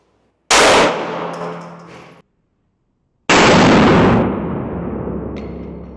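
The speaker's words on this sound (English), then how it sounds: "I'm gonna extend and fire one" A single pistol shot cracks out loud and close from a handgun at a shooting range, its sharp report ringing and decaying over about two seconds, followed by a second loud blast after a short silence.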